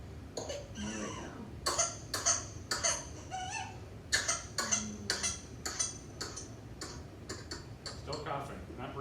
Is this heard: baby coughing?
yes